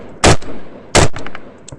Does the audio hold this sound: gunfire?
yes